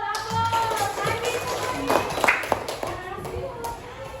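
Children clap in a third-grade primary school class, giving scattered, uneven claps that mix with a voice speaking over them.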